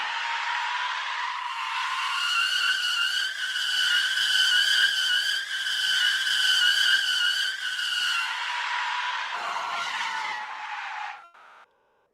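Tire slip skidding from the road-trip video game Heading Out: a loud, continuous tonal squeal with steady pitch that holds for about ten seconds, then drops away abruptly, alone without talk.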